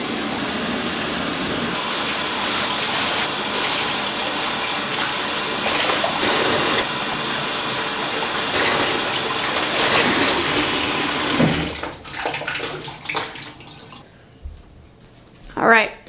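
Running water rinses hair dye out of hair, a steady loud gushing spray that continues for several seconds before breaking into splashes and trickles, with a voice heard over it.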